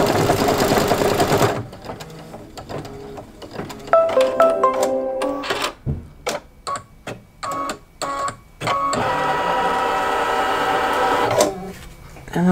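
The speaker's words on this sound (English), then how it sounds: "Now it's gonna do the final satin stitching around the outside of the daisy petals." A multi-needle embroidery machine runs satin stitching around daisy petals on a quilt block, a close mechanical whir with rhythmic stop-start pulses and brief pauses in between.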